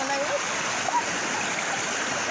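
Flood water streams across a farm field in a constant, fairly faint rushing wash, with a voice briefly heard in the background.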